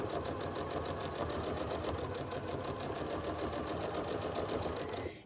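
A sewing machine stitches in the ditch of a quilt square, a fast steady mechanical whirring rattle running continuously at close range before stopping abruptly at the end.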